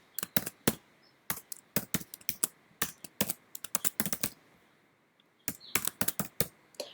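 HTML code is typed on a computer keyboard in crisp, close clicks that come in quick clusters separated by short pauses, including one longer silent gap, over a quiet room.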